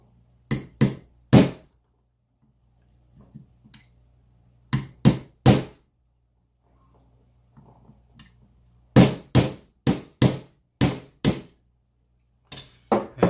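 A hammer strikes a small steel punch to seat a trigger in an FN9C pistol, landing in sharp, close metallic knocks in quick groups of two or three with short pauses between them.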